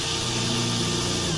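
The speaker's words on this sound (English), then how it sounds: "I'm gonna grab my other drill with a smaller bit and make me a pivot hole." A power drill with a small bit whines steadily at close range, boring a pilot hole with a continuous grinding hum and no breaks, during wire-cover work on a Grumman jon boat.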